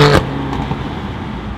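A BMW M3 driving, heard from inside the cabin as a steady low engine rumble with a brief louder burst at the start, close and continuous for a moment.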